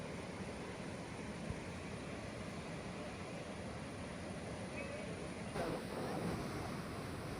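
Steady, heavy rushing of water and rain at Athirappilly Falls, a continuous dense roar with no pauses, close and loud.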